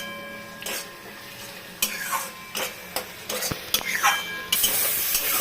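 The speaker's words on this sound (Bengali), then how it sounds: "এই যে পাবদা মাছের মশলাটা কষাচ্ছি, আরও কষাতে হবে অনেকক্ষণ" Spice paste for a Pabda fish curry sizzling in oil while a spatula scrapes and stirs the pan in repeated sharp strokes over a steady frying hiss, louder at the end.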